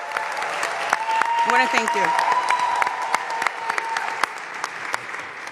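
Audience applause at the opening-day ceremony of a new city recreation center, a steady crowd clapping throughout with someone speaking over it partway.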